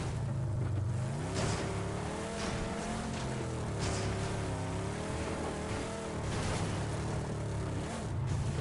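A car drives in PUBG on PS4, its engine a steady, loud drone with wavering pitch that rises and falls as it speeds up and eases off, over continuous road rumble throughout.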